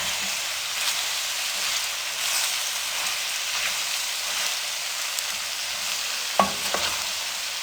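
Okra is stirred with spices in a frying pan for a bhindi curry: a constant close, hissing sizzle with soft scraping stirs throughout and a couple of sharper knocks near the end, no one speaking.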